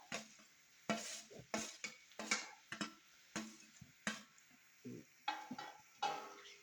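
A spoon scrapes and knocks rhythmically in a pan as onions are stirred with ginger-garlic paste for chicken curry, with sharp repeated strokes over a faint sizzle and no talking.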